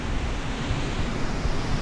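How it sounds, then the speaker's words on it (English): Strong wind blows outdoors near a tornado-season vlog location in Lethbridge, producing a dense, roaring rush of buffeting noise close to the microphone, steady with gusting swells and no voices. "It's a little windier than normal."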